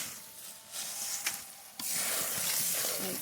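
Boiled moong dal being sautéed with liver in a pan, a soft stirring scrape and gentle sizzle that grows into a steadier, brighter frying hiss partway through.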